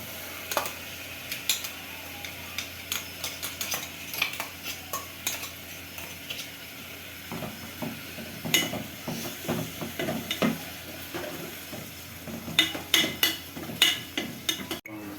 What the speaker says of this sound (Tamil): இது கூடவே வந்து புதினாவும் கொத்தமல்லியும் அரைச்சி வச்சுருக்கேன் அதையும் நான் இதில் சேர்த்துக்கிறேன்